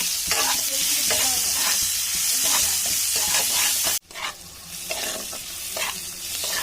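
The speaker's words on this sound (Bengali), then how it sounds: "পেঁয়াজগুলো ভালো ভাজা হয়ে গেছে" Onions sizzle steadily in hot oil in a wok while a spatula stirs them, with rhythmic scraping strokes over a constant frying hiss that drops out briefly mid-way and then resumes.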